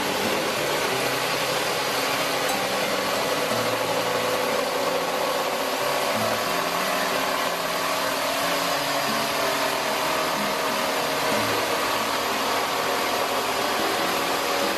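A router milling plywood along a stem pattern guide, a loud, steady high-pitched motor whine with a dense cutting roar holding constant throughout, close and uninterrupted.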